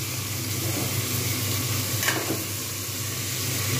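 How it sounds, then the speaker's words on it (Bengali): Mutton fries with onions in a pan for a Bengali curry, a loud continuous hiss and sizzle close up, with a brief scraping stir midway and no voices. "আমি এখন কিন্তু এর মধ্যে এর সঙ্গে মাটনটা ভাজবো,"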